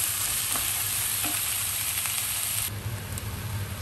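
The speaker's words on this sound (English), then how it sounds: "just fry them a little bit together until they become soft to your liking" Vegetables fry over low to medium heat in a pan, giving a steady close sizzle and crackle with faint stirring scrapes, no voices.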